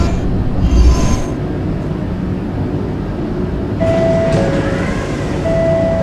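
A PST-2R B train on the PTA 5th Avenue Lines in a video game runs steadily toward Expo Center, a continuous rumble of wheels and motor with a brief squeal midway and tonal whines near the end.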